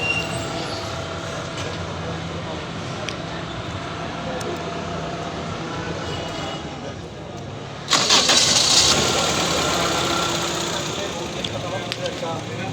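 A private car's freshly rebuilt engine cranks and catches after several seconds, then settles into a steady close idle, with voices in the background.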